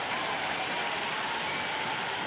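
Simulated stadium crowd at a T20 World Cup cricket match between South Africa and Zimbabwe in the video game Cricket 26, a steady, dense roar and applause-like wash that holds level throughout with no breaks.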